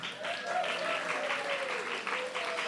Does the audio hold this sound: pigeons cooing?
no